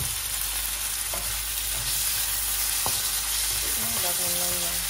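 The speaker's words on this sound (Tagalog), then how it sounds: "so lalagay na natin yung kamatis" Tomatoes dropped into hot oil with sizzling ginger, onion and garlic for ginataan tilapia, a steady loud sizzle with a few scrapes and clicks of stirring, a brief tonal squeak near the end.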